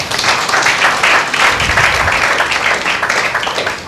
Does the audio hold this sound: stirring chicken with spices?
no